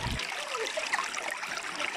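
Water from Tugonon Falls in Danao, Cebu rushes and trickles along a stream in a steady, close, bright wash with no voices.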